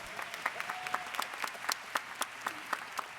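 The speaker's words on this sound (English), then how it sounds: "let's give them a round of applause" An audience at a public sorority meeting gives a round of applause, a fairly faint, steady patter of many clapping hands with scattered louder individual claps.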